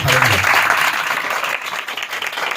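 A church congregation at an Urdu-Hindi sermon breaks into loud, sustained applause that fills the room, with a faint voice audible at the very start.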